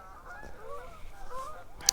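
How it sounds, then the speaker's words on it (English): Flock of geese honking as they fly up over a hill near a lake in the afternoon, with repeated overlapping calls that are moderately distant and one sharper, louder honk near the end. "Nice flock of geese just coming up over the hill here."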